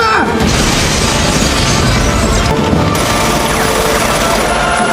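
A loud, dense burst of rapid gunfire fills the whole stretch, continuous crackling shots with crashing debris, no pauses.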